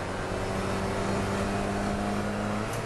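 Porsche 968 race cars running at Donington Park, a steady dense engine roar close by throughout, with sustained drone and no clear pass-by peak.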